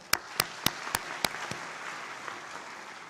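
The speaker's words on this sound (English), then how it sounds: "A round of applause to them all." At a large church assembly in a hall, a handful of sharp, separate claps ring out near the start, about five or six spaced beats, then fade into a faint wash of scattered applause.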